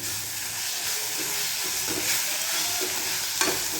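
Ground green chillies sizzle in hot rajma tempering, a steady, close frying hiss with a few soft stirring scrapes and no talk.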